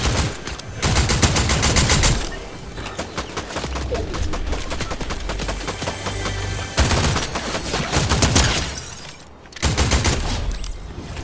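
Bursts of rapid gunfire from a low damage gun in Fortnite, loud close rattling volleys separated by short pauses.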